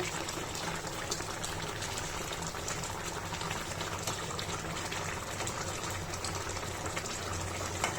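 Rohu fish head curry with vegetables simmering and reducing in a pot: a steady, even bubbling and hissing that continues unbroken throughout, close and moderately loud.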